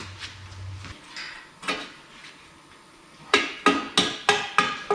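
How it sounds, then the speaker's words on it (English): A series of sharp, solid dead blow hammer taps on a steel shelf part, a few scattered early then five evenly spaced strikes close by, with no talking. "Might even be able to just take the hammer and just kind of tap it on."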